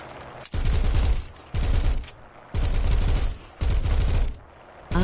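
An M163 anti-aircraft gun in War Thunder fires four long, loud buzzing bursts of rapid cannon fire, each lasting about a second, separated by brief pauses, with no talking.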